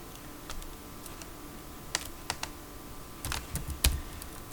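Keys clatter on a computer keyboard as coordinates are typed into Mastercam CAD software: sparse, irregular keystrokes that gather into a quicker, louder burst near the end. No one speaks.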